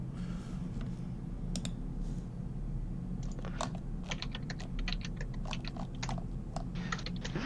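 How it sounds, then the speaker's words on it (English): Rapid bursts of typing on a computer keyboard, crisp clicking keystrokes in quick uneven runs over a steady low room hum, with no talking. "Rapid keyboard sound."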